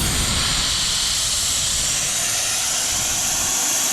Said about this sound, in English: You hook it onto the caliper and hook it to your compressed air and pull the trigger.